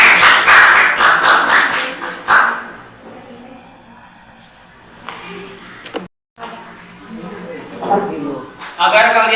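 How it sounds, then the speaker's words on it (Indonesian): A class of students in a school lesson claps hands loudly for about two seconds at the start, then a teacher's voice speaks on with a few scattered claps near the end. "Boleh tepuk tangan buat kalian semua."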